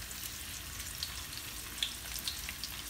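Red snapper pan-frying in hot oil, a dense steady sizzle throughout with a few tiny crackles and pops on top, close and fairly loud.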